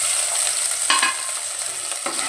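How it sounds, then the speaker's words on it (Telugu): Ginger-garlic paste frying with onions for a Telangana-style mutton curry, a loud, steady sizzle with a few scraping stirs, close and alone. "ఇప్పుడు అల్లం వెల్లిగడ్డ పేస్ట్ వేసుకున్నాం."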